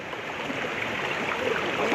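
Hidden waterfall in Tamhini Ghat, a steady broadband rush of falling water that grows slightly louder over the two seconds, continuous and without talk.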